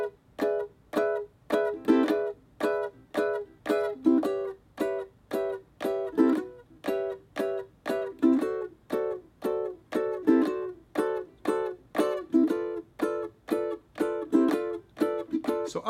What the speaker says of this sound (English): You strum open, and you slap down those chords.